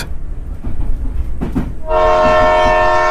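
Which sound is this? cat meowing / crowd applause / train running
train running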